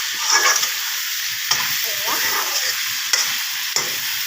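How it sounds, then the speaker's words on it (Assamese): Meat and potatoes frying together in a pan, a steady close sizzle with occasional scraping stirs of a spoon through the pieces, with no voices over it. "মই লৰাই থাকিম এনেকৈ। এয়া লৰাই দি আছোঁ।"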